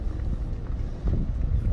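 Cold wind blows outdoors at a wildlife safari park in Oregon, with low, rumbling gusts buffeting the microphone closely and steadily throughout.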